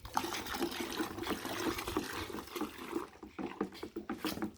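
Pre-soaked liquid SLS pouring and splashing steadily into a liquid soap mixture, a wet trickling flow that continues for several seconds before tapering into drips.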